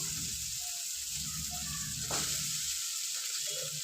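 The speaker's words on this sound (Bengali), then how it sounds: "এবার এখানে আমি লতিটা দিয়ে দেব।" Steady loud sizzling as taro stolons go into spice paste frying in oil with shrimp, a constant close hiss with a brief flare of crackle and stirring.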